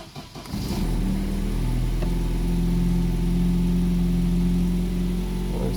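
GAZ 31105 car engine cranking briefly, catching and settling into a steady, fairly loud idle with a smooth low hum that continues to the end, with no talking.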